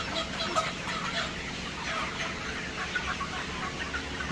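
Chickens on a poultry farm, ready for market and weighing around 900 grams, keep up a continuous low murmur of clucking from many birds at once, steady and fairly quiet, with no talking.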